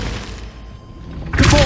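A Glacius ice spell cast in Hogwarts Legacy, a bright shattering burst at the end after a quieter low rumbling stretch, loud and close, no talk.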